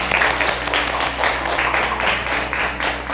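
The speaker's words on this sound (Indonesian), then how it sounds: "Oke, tepuk tangannya dulu" A classroom of students bursts into steady clapping during a lesson, many hands overlapping in a lively, fairly loud burst over a low electrical hum.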